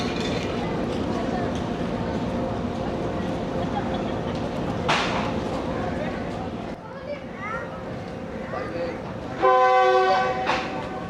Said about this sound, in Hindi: दूसरा डिपार्चर विसल हो गया